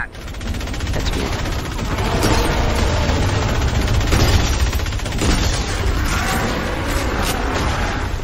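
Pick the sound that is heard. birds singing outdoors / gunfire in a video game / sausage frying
gunfire in a video game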